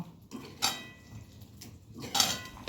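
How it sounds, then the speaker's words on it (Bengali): A spoon scrapes and knocks around a pot of potato and pea curry with peas, a few bright clanks separated by a low stirring rumble, close up and without speech. "লাস্টে মটরশুঁটি দিয়ে দেব আর ভালো করে নাড়িয়ে নেব"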